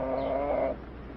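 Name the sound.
chicken vocalizing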